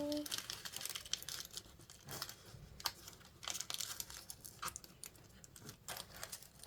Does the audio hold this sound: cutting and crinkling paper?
yes